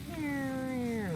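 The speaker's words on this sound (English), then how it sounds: "that is the sound of Spectre's missile getting launched" A whistling, slightly descending synthetic tone with harmonic overtones sweeps steadily for about a second, loud and close: Spectre's missile launch in the video game Twisted Metal Black.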